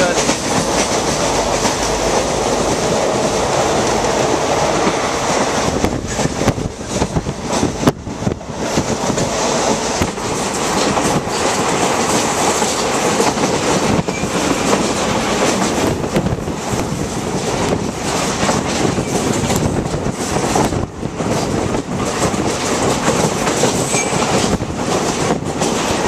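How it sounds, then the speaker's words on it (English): A train on the Konkan Railway between Mangalore and Goa rolls steadily along the tracks with a continuous loud rumble and rattle, wind rushing past the microphone throughout. "Enjoying the train journey."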